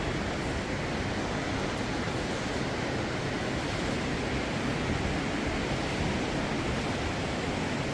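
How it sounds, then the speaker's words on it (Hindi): A river flows below a mountain temple in a Himalayan valley, a steady broadband rush of water that stays constant and fairly loud throughout with no voices. "कल कल कहती नदी"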